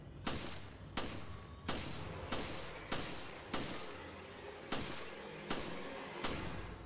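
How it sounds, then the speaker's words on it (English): Gunshots in Resident Evil: Revelations ring out one at a time at a steady, unhurried pace, about eight sharp, loud reports, each with a short echoing tail. "And I'll start shooting from way here."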